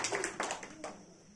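A church congregation claps in a short burst of a few quick, scattered hand claps that fade within a second or so.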